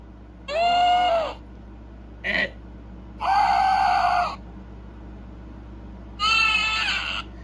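A sheep-like bleating monster from the video game Ahh Real Monsters gives three drawn-out wavering bleats with a short squeak between them, loud and clear over a faint background hum.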